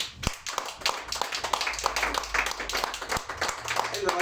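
Congregation applause during a church sermon, brisk, dense hand clapping with a few sharp individual claps standing out and some voices mixed in.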